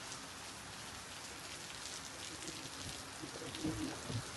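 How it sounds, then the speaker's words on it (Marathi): Heavy rain pours down steadily and densely, a constant loud hiss of drops striking surfaces with no pauses. "पाऊस लय जोरात चालू आहे"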